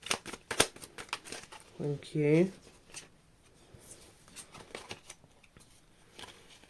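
A Love Yourself First card deck being shuffled, quick crisp riffles and taps of cards in bursts, close and fairly quiet, with a brief spoken phrase in between.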